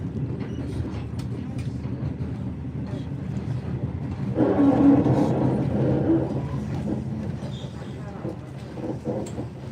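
The Overland passenger train rolling along rails toward Bordertown, a steady low interior rumble with faint clicking, swelling briefly louder midway, with soft voices underneath.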